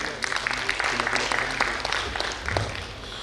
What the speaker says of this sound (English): a big round of applause for our respected dignitaries